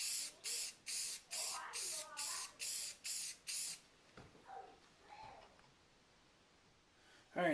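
Spray paint hisses from an aerosol can over a vinyl spray mask decal, red coat, in nine quick evenly spaced bursts, close and loud, followed by faint rustling and a final short spray.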